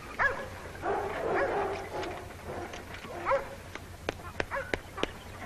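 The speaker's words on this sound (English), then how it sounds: "Nice looking bunch of dogs" A pack of hunting dogs yips, whimpers and gives short barks, with bursts of excited vocalizing up close and a scatter of brief yelps toward the end.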